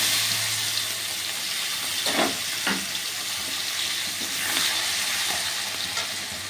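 Sliced onion frying in hot mustard oil with nigella seeds for a pamphlet fish dish gives a loud, steady sizzle close up, with a few stirring scrapes and brief flares in the hiss.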